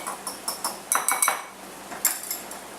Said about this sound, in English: And we're going to get that a little stir.